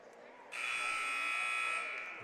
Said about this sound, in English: As the buzzer sounds, Windom will head out